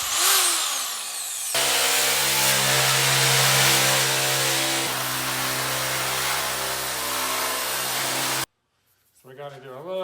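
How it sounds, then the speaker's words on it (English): A small Makita power shear, used in fabricating a custom dash for a Ford F350 crew cab, runs loud and steady for several seconds, then cuts off abruptly into a brief quieter pause. "It's just a little shear, Makita shear."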